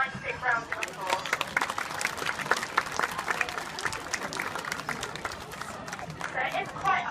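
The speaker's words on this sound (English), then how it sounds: "Should we give them a nice big round of applause?" Audience at a parrot show in a safari park breaks into a big round of applause, dense, close clapping mixed with crowd chatter that carries steadily for several seconds, with a voice talking over it near the end.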